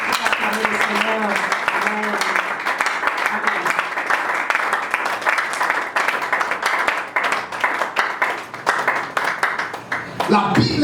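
A church congregation at a French-language worship service claps and cheers for Jesus in a sustained, dense burst of applause, with a voice calling out over it at the start and the clapping thinning toward the end.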